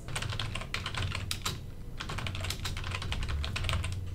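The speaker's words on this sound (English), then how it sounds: "I simply click on Add a Task List and type in blog" Close, rapid typing on a computer keyboard, a steady run of crisp key clicks with brief pauses between bursts.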